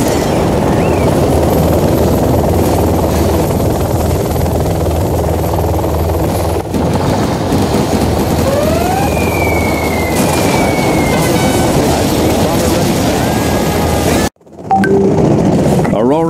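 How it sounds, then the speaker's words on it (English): Aurora bomber aircraft from Command & Conquer Generals Zero Hour flying, a loud steady engine roar with a few faint whooshing tones, running continuously before a brief drop and return near the end. "Aurora in flight."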